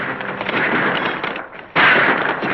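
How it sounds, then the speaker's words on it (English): Gunfire in an old Western feud scene, a dense crackling burst of shots that thins out, pauses briefly, then resumes loudly and abruptly. "Sounds like that shooting's over around your place."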